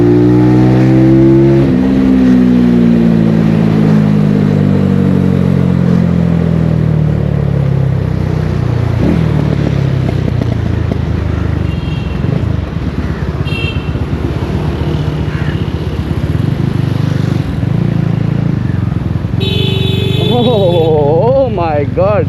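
A tuned TNT25 motorcycle revs hard and pulls away, its engine note climbing through the gears and staying loud and close for the whole ride, with brief exclamations from the rider near the end.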